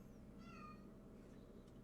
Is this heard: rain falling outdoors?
no